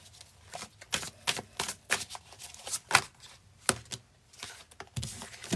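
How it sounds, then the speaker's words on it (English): Tarot cards are shuffled in quick bursts of crisp riffling and slapping, close and fairly quiet, with short pauses between the irregular runs. "Quick shuffle for Leo"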